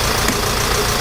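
The engine of a 2007 Ford Transit Connect idles as it warms up, a steady low mechanical hum with a faint knocking texture, close and continuous, no voices.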